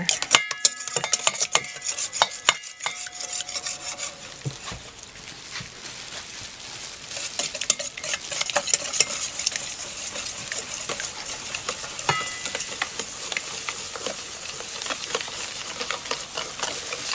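Four eggs and sugar are whisked together in a bowl for an egg custard pie, a quick rapid clatter of the whisk against the bowl that carries on steadily after a few sharper knocks at the start.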